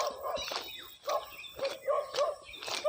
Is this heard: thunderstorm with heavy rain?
no